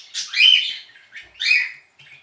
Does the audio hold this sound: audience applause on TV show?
no